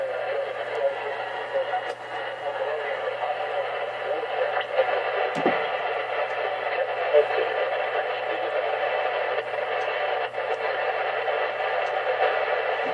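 Ham radio station signal received on a homebrew hex beam antenna made of PVC and wire: a steady band of hiss and static with a faint voice inside it and a few brief clicks, holding at a fairly even level.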